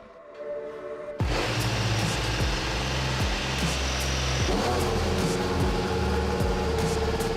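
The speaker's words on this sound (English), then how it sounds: "You're good to fire up the car" Sergio Perez's Formula 1 car fires up in wet conditions at Silverstone. A sudden loud mechanical roar bursts in and holds steady, with engine pitch rising and falling as it revs.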